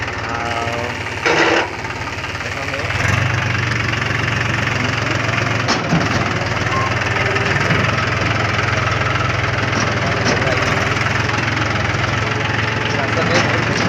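A tractor engine idles steadily with a low knocking throb that runs through the whole stretch, loud and close, while people talk faintly over it.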